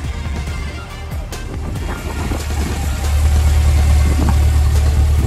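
A 2022 Corvette Stingray's 6.2-liter V8 rumbles with a deep, steady low idle that grows louder and fuller partway through, with faint clicks and knocks on top.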